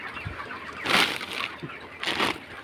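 Broiler chickens on a farm cluck in a few short bursts of fowl calls over a steady low background hum, with no talk.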